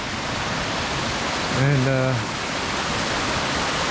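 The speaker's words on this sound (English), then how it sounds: "This water is coming from the mountain," Mountain water rushes steadily down Clear Creek at French Gulch County Park in a loud, broad roar, with someone briefly speaking over the constant flow.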